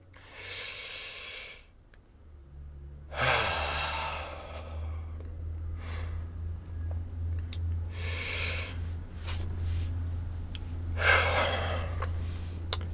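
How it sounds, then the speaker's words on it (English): Slow, audible breaths in and out, separated by pauses, over a steady low hum; no talking. "pay attention to my breath right now and listen to it"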